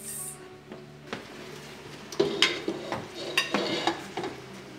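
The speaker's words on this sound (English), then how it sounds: "now what we're going to do is we're going to add the carrots" Carrots tipped into a pot of cooking corn, with a stirring, scraping clatter of utensil against the pot and soft bumps and clinks building through the middle, under a low steady kitchen hum.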